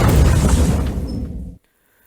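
A loud, rumbling explosion in the video game Beyond bursts with broad roar and low boom, sustaining for about a second and a half before cutting off abruptly into near silence.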